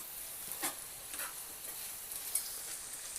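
Grated ginger and curry leaves, added with spice powder for a jackfruit seed pulao, sizzle faintly in a pan with a soft even frying hiss and a few light stirring taps, no one speaking.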